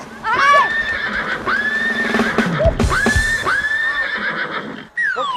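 A horse neighs loudly and close by in several long whinnies one after another, with a brief thud between calls.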